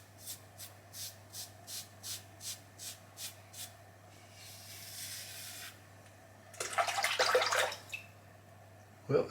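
Water rinses lather off a freshly shaved head, starting as a quick run of rhythmic drips and splashes, then a soft trickle, then a louder, rushing splash close by.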